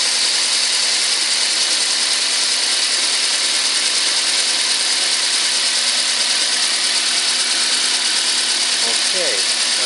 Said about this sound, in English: my assistant goes to start this engine again